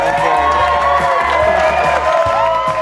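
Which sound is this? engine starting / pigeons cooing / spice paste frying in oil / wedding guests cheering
wedding guests cheering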